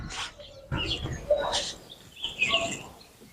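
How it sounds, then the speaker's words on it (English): Birds chirping in a backyard below a bedroom balcony of a gated-community house, scattered short high calls and tweets at moderate distance, fairly faint, with a few soft rustles between them. "And you can hear the birds."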